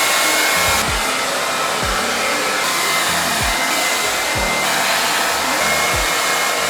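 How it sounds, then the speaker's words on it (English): Hair dryer blowing steadily and loudly through the whole stretch while hair is blow-dried for an at-home silk press, with faint low thumps from handling the dryer beneath the continuous roar. "I literally blow dry my hair super fast"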